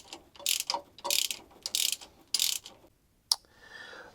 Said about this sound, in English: Now, we're gonna go ahead and remove the last bolt.